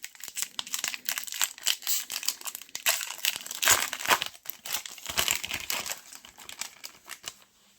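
Bowman baseball card blaster pack being torn open, a close, busy run of foil crinkling and ripping with sharp crackles and short pauses, no talking.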